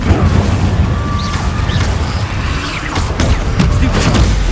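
Incendio fire spells cast in Hogwarts Legacy combat, a run of crackling, bursting flame blasts and heavy low rumbles mixed with clattering impacts, loud and continuous.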